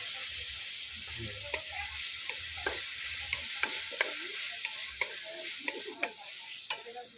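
Tomato frying in a pan with garlic for a mung bean and prawn dish, a steady soft sizzle with clicking spatula stirs scattered throughout, no voices.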